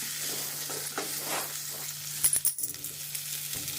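Carrots and peas fry for fried rice in a hot pan, a soft steady sizzle with a few metallic clinks and scrapes of a spatula midway, close and with no talking.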